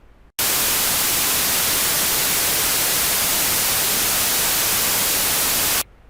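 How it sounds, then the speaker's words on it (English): White noise test signal, a loud, flat, steady hiss that starts abruptly and runs for about five and a half seconds before cutting off sharply. "The first noise you will hear is white noise."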